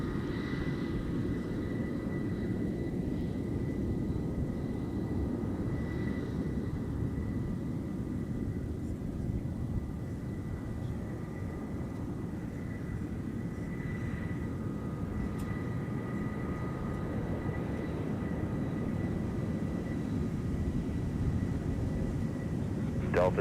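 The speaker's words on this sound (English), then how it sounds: "Runway 17, clear for takeoff. Off to Ronald Reagan in Washington, D.C." Delta airliner taking off from runway 17 at Minneapolis–St. Paul airport, a steady, heavy low-frequency jet roar and rumble that holds loud and constant throughout with no speech over it.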